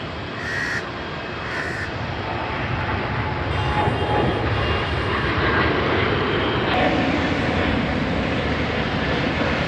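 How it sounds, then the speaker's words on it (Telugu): An airplane taking off near an airport boundary wall in overcast weather, a loud, steady, broadband engine roar filling the whole stretch, with a couple of brief crow caws early on and no talk. "ఫ్లైట్ ఎగిరిపోతుంది"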